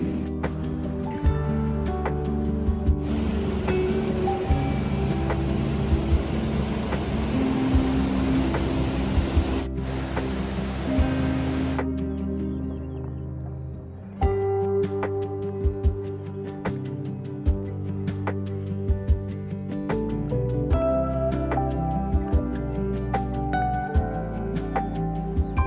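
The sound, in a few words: raging river water in a pine forest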